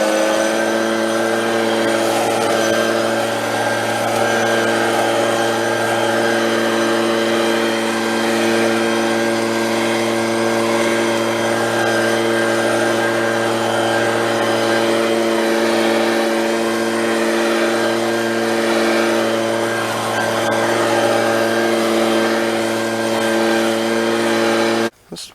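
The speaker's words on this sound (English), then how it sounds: "you can probably see the leaf blower up there" A Stihl leaf blower runs steadily at a distance during yard work, a sustained droning engine tone with a constant pitch that holds for the whole stretch and cuts off abruptly at the end.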